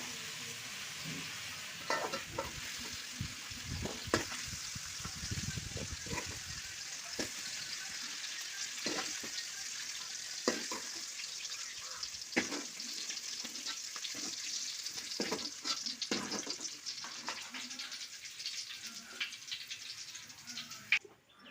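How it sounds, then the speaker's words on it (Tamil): Bitter gourd sautéing in oil, a continuous hissy sizzle with intermittent stirring knocks and scrapes, steady and close over about twenty seconds without talk. "காய் வதங்கிட்டு எடுத்துடலாம்."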